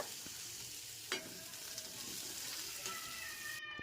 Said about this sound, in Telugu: కందిపప్పు మాత్రం బాగా వేయిన తర్వాత క్యారెట్లు వేసి బాగా వేపానండి